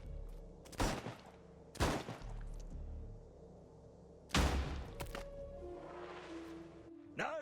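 Gunfire in Chernobylite 2: Exclusion Zone, four sharp loud shots spaced a second or more apart with echoing tails, over a low ambient hum and a brief tonal cue.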